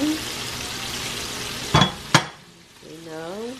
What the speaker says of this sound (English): and then frying.